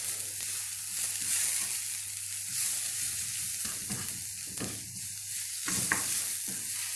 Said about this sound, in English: we'll stir that and brown that away for a while